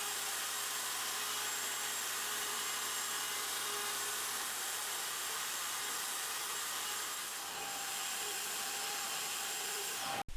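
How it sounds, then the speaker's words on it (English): A router table with a bearing-guided bit cuts a 1/8 roundover on pallet hardwood, a loud sustained whining motor with a shift in tone partway through as the wood passes the bit. "I give them all a 1/8 roundover on the router table"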